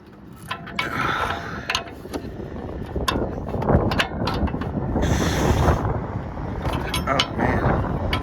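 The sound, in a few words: tightening oxygen sensor with Hyper Tough wrench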